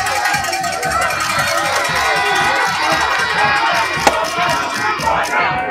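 Loud, dense crowd noise at a public ribbon-cutting ceremony on a boulevard, with rhythmic clapping, cheering and shouting that continues steadily throughout.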